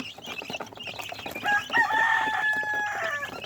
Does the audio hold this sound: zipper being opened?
no